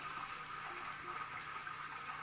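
Water flows steadily during an aquarium water change, a soft continuous hiss of running liquid that stays faint and even throughout with no voices.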